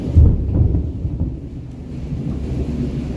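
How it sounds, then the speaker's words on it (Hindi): Deep, continuous rumbling of thunder rolls through a steady rainstorm, loudest in a heavy surge at the start and then settling into a sustained low growl with rain hiss underneath. "बादल कितनी तेज गरज रहे हैं,"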